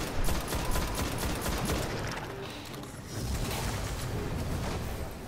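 Scout rifle fire in the video game Destiny, with a rapid series of sharp shots crackling over dense battle noise in the first seconds, then continuing gunfire and rumble throughout.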